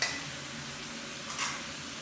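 Catfish pieces stir-fry in a pan for a spicy Thai phat phet pla duk, giving a soft, steady sizzle with a brief scrape of a spatula partway through and no talk.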